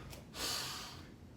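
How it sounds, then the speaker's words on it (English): One deep, audible breath during a martial arts strength and conditioning workout, a soft airy inhale or exhale lasting under a second, close and quiet with no talk. "Now breathe with me"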